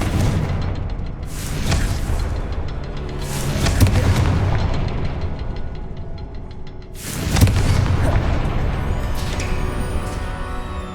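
Confringo spell blasts in the video game Hogwarts Legacy burst out as heavy, booming explosions, with several loud detonations and rumbling crackle between them.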